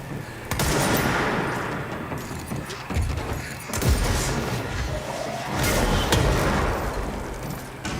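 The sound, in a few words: gunfire and rocket shots in the video game Control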